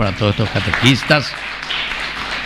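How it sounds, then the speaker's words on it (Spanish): A church congregation applauds the catechists: a speaker's voice gives way to a steady patter of many hands clapping across the room. "fuerte aplauso para ellos"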